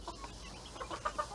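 Australorp hens and roosters, along with a few cross-bred hens, cluck softly in a farmyard, a short run of quiet clucks rising toward the end over faint background noise.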